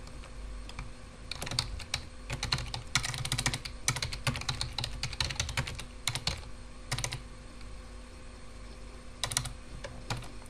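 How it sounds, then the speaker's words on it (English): Close typing on a computer keyboard, with rapid clusters of key clicks in uneven bursts and short pauses, alone over a faint steady hum. "Type in a title, and add some text."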